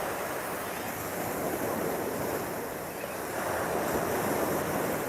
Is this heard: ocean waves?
yes